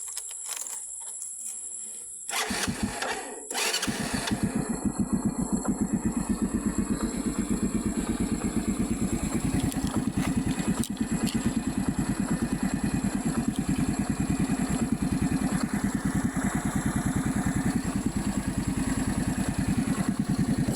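Motorcycle engine running steadily with a rhythmic clattering throb while being ridden on a mountain road, loud and close throughout after a few handling thumps at the start, without talk.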